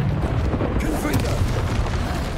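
Confringo blasting spell explosions in a Harry Potter video game, a loud booming blast with a sharp burst of crackling debris partway through, rumbling continuously, with game voices mixed in.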